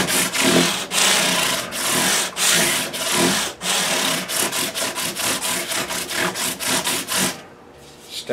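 Guitar frets on a Taylor neck are rubbed with 400 grit sandpaper in quick, close, rhythmic back-and-forth strokes. The scratching runs continuously and then stops briefly near the end.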